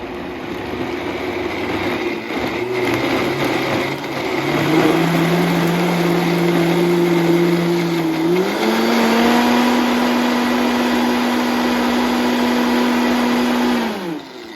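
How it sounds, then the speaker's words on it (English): A blender whirs loudly and steadily through a cheese mixture, its motor pitch stepping up partway through before winding down at the end; no talking. "So we're gonna put this in and we're gonna blend it."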